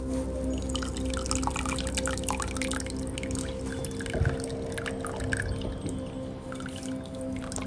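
Goat milk whey poured out to the end at home during cheesemaking, heard as faint trickling and dripping over a low steady hum, with one brief bump midway.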